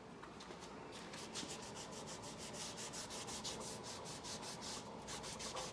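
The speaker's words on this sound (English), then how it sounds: "Just scrubbing some baking soda off of the surface that I cleaned this past weekend." Baking soda being scrubbed off a cleaned stove surface, with a close, steady rhythmic rubbing of quick back-and-forth strokes continuing throughout.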